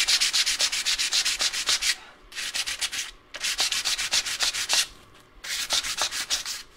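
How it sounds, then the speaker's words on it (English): Sandpaper wrapped around the flat side of a brush rubs back and forth in quick repeated strokes, a close, loud, hissing scratch in four bursts separated by short pauses. "that's a great side to wrap the sandpaper around"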